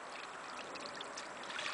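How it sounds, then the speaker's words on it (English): Waste fluid from a home porch biogas digester fed with food waste trickles and splashes out steadily, a close, continuous watery pour with no voices. "The extra fluid that comes out when you pour the food waste in comes out here"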